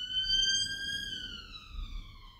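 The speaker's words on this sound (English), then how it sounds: "Excuse the sirens." An emergency vehicle siren wails past outdoors, a clear rising and falling tone heard at moderate distance over a low background rumble, with no talking.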